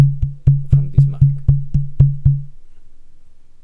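A force feedback steering wheel motor and wheel base, recorded at close range during F1 2023 game testing, pulses in a steady low thumping hum, about nine evenly spaced beats with sharp clicks, then fades to a faint buzz.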